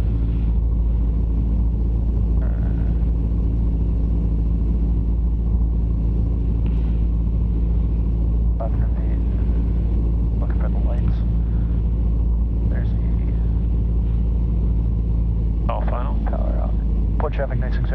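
A small training airplane's engine drones steadily in the cockpit as power is brought back on approach, a constant loud low hum with intercom voices talking over it.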